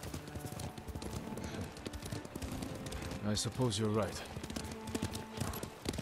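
Horse hooves clip-clop at a steady riding gait in Ghost of Tsushima, a continuous rhythmic patter sitting under conversation and game music, with a voice speaking briefly partway through.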